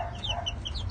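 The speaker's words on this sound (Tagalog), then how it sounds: "ito gift bird sa akin ni Engineer Perdi Cruz" A five-month-old Sweater Escolin line gamefowl clucks in quick, soft, chirpy notes over a low background rumble, in one short close burst.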